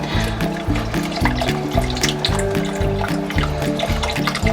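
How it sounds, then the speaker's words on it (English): Broth pours into a gumbo pot, a steady liquid splashing and gurgling that continues throughout, fairly loud and close, with no talk over it. "so just pouring the other broth in there"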